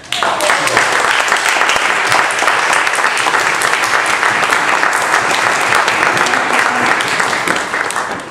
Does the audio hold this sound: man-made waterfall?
no